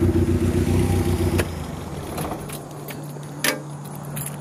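A car engine idles with a steady low rumble, then cuts off at about a second and a half, leaving quiet room tone. A ring of keys jangles just after, with a brief louder clink near the end.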